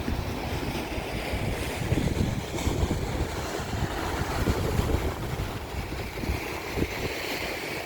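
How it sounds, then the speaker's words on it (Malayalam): Strong sea wind gusts steadily across an open beach by an 18th-century seaside fort near the ocean, with a broad rushing roar that includes possible surf, loud and continuous throughout, with no talking. "നല്ല കാറ്റാണ് കടലിൻ്റെ കാറ്റാണ്"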